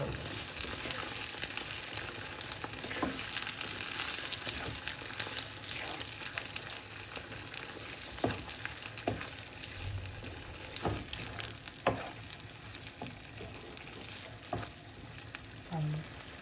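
Ground paste fried in oil in a pan, a steady close sizzle broken by irregular scraping clicks of the spatula as it is stirred, fairly quiet overall, no voices.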